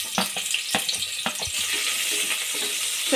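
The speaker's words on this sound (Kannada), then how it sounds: "ಸ್ವಲ್ಪ ಲೈಟ್ ಗೋಲ್ಡನ್ ಬ್ರೌನ್ ಆಗೋವರೆಗೂ ಹುರ್ಕೊಳ್ಳಿ" Chopped onion frying in hot oil inside a pressure cooker, a steady close sizzle with several sharp stirring clacks of a utensil against the metal pot early on.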